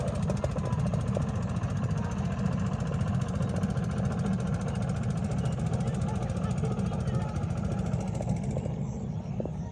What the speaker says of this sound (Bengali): ওইদিকে আবার যেটুকু নদী, তা আবার মেশিন চালিত নৌকা